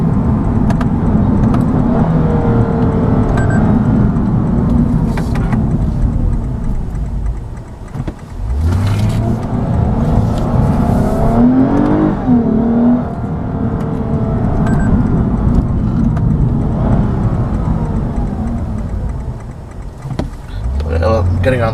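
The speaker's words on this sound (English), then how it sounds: "this car definitely wakes up as soon as you step on it" A 2014 Lexus IS350 F Sport accelerates hard, its engine note loud and sustained from inside the cabin, with a speaking voice running over it.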